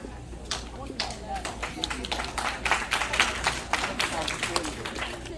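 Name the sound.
audience clapping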